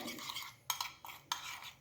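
Skin scrub mixture for removing dead skin being stirred in a bowl, giving a steady scraping swirl with a few sharper clinks of utensil against the bowl, close and fairly quiet, no talking.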